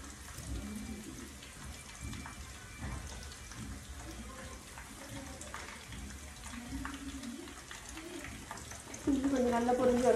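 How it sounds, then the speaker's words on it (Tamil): Ginger fries in hot oil for a mixed pickle, giving a continuous fine sizzling crackle that swells louder near the end, with a voice talking over it. "இஞ்சி கொஞ்சம் நல்லா பொரிஞ்சு வரட்டும்"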